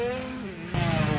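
A dirt bike on a racetrack putters low at first, then its engine catches and roars louder partway through, with a steady revving buzz close by.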